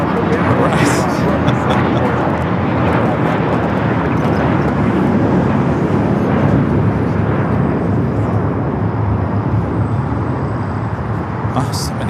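An American Airlines jet taking off at LAX gives a steady, loud broadband engine roar that holds throughout, with voices talking over it.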